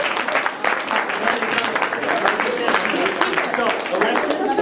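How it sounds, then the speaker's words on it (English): An audience applauding a participant named Alexis at a leadership talk, a dense burst of clapping lasting several seconds at an even level, with voices mixed into the crowd noise. "Everybody give Alexis a round of applause"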